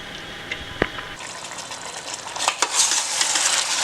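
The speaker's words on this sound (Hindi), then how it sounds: "अब इसके अंदर हम ये चिकन डाल देंगे और चिकन को 5-6 मिनट बढ़िया भून लेंगे" Chicken pieces hit hot masala in a pan, with a sharp clatter early on, then a sizzle that swells and stays loud as the meat is stirred, mixed with a few scraping knocks.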